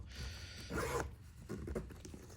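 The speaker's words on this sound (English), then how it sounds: "Do a bit of a zipper there." A zipper on a Quest 3 VR headset carrying case is pulled in a few short, scratchy strokes, close and fairly quiet.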